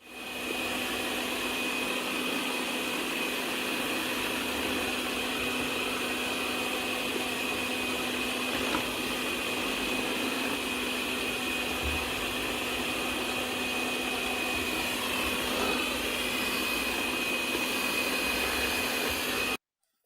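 A LuBlueLu lidar robot vacuum runs steadily, giving off a constant whirring motor hum with a high-pitched whine that holds level for about twenty seconds before cutting off.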